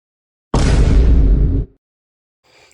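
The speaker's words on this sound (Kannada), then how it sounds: "ಪಟಾಕಿ ಹಚ್ಬಿಟ್ಟು ಓಡೋಗ್ತಾ ಇದ್ದಾನೆ" A Diwali firecracker bursts into a loud, abrupt hissing roar lasting about a second, then cuts off into silence, with no voices.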